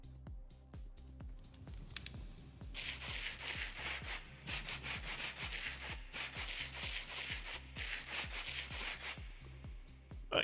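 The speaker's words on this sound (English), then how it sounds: "I need another piece of sandpaper." Repeated rhythmic scraping and rubbing of sandpaper in the Create mod for Minecraft, steady rasping strokes with regular mechanical ticks underneath, moderately loud and continuous with no talking.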